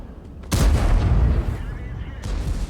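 A tank cannon fires in a tank video game, one loud, deep booming blast that rumbles on, followed later by a second, softer swell of noise.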